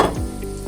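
Onions and garlic hit hot oil in a pan for pad Thai, giving a brief, close burst of sizzling with a little stirring.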